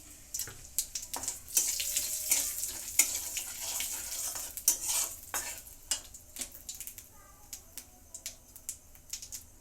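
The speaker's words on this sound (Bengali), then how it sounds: "কড়াইতে মাছের তেলের মধ্যে একটু তেল দিয়ে দিয়েছি, তার মধ্যে এখন জিরে ফোড়ন দিচ্ছি।" Cumin seeds crackle and sizzle in fish oil in a wok, a brisk hiss with a flurry of sharp pops, along with clicks and clatter of a utensil against the metal.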